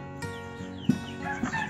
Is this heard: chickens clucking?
yes